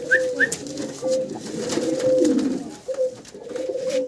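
Cocker pigeon hens in black, white and blue check coo close by, with repeated low throaty calls rolling one into the next and brief higher chirps at the start.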